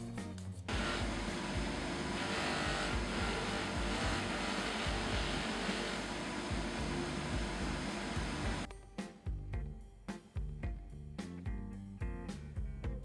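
A polishing machine whirs steadily and loudly against a gold ring with a delicate upper part for about eight seconds, then stops and gives way to short, uneven clinks and handling noises.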